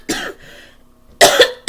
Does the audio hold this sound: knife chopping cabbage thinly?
no